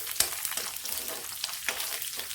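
Ginger and garlic paste hits hot oil in a pan over browned onions, a steady sizzle and crackle with a few stirring scrapes, close and alone without talking.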